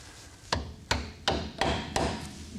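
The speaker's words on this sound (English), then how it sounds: "Let's take a hammer and tap it out" A steel hammer strikes a cotter pin in a vehicle's steering linkage five times at a steady, unhurried pace, each blow a sharp metallic tap ringing close and clear with no talk.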